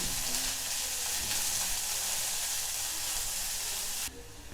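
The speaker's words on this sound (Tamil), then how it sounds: "ரொம்ப தின்னாக நறுக்கி வச்சுருக்க வெங்காயத்தை இதில் சேர்த்துக்கலாம். இது நல்லா வணக்கி விட்டுக்கலாம்." Thinly sliced onions fry in a clay pot for chicken biryani, giving a steady, dense sizzle that fills the clip before dropping suddenly quieter near the end, with no talk.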